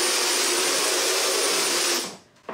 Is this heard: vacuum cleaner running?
yes